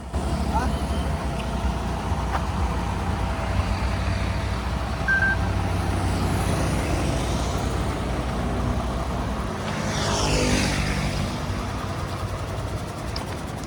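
A bus diesel engine idles steadily after its strainer and oil chamber were refitted, a loud continuous low rumble with a brief rise near the end, and a voice talks over it.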